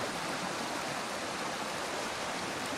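Vasaristi rapids on the Vasaristi stream in Lahemaa National Park, eastern Harju County, Estonia, rush in a steady, unbroken roar of fast water, close and even throughout with no voices.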